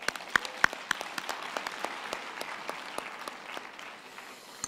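Applause from the audience at a university winter graduation ceremony, sustained clapping with a few sharp close claps standing out early on, no voices over it.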